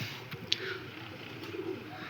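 Ratti breed pigeons give a soft, low coo or two amid a faint steady background hiss, with no voices.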